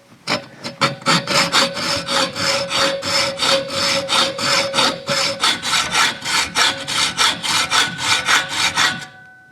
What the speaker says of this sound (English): Every time I get my hacksaw out